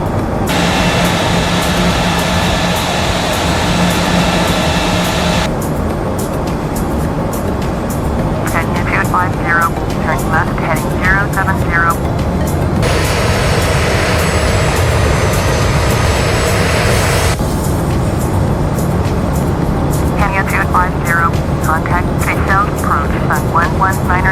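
A simulated FeelThere ERJ190 jet on approach in the P3Dv4.5 flight simulator game gives a loud, constant engine and cabin roar, with shifts in tone and bursts of chirpy electronic or radio-like sounds over it.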